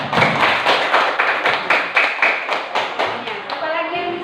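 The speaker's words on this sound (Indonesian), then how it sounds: "Tepuk tangan dulu." Students in a classroom clap their hands together in a loud, rhythmic burst of about a dozen sharp claps, close by, ending with a voice.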